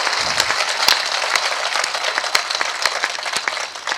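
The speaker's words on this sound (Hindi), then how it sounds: "तो एक बार जोरदार तालियां उठाइए सब लोग जाग के" Steady audience applause at a Hindi poetry recital fills the space, dense and continuous with sharper individual claps standing out, loud and sustained throughout.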